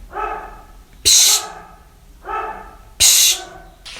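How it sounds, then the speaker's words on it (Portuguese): A neighbour's dog barks in two separate bursts, each a harmonic woof followed by a sharp, bright noisy yelp. The bursts are about two seconds apart, moderately near and clear, with no talk over them. "esse cachorro do vizinho arruma uma latição que eu nunca vi"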